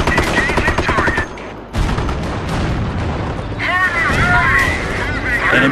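Heavy gunfire pounds a forward emplacement in the World War II strategy game Company of Heroes, with loud rapid bursts, booming impacts and shell blasts, a brief lull, then renewed firing with whistling shots.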